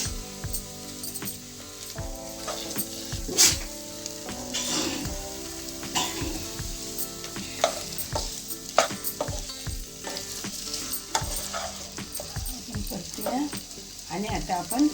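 Boiled potatoes are sautéed and stirred in a pan for a fasting-style batata bhaji, giving soft sizzling with repeated scraping stirs while someone speaks over it.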